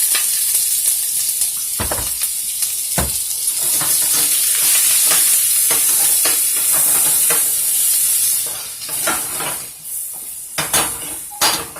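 About a cup of chopped onions frying in a tablespoon of oil in a pan for quesadilla steak tacos. A loud, steady sizzle runs throughout, broken by sharp clanks and scrapes of utensils against the pan.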